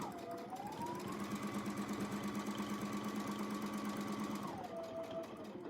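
A quilting sewing machine stitches out a squat oval clamshell design with a ruler, running continuously and loud with a steady motor whine that rises in pitch as the speed picks up, holds, then drops back near the end.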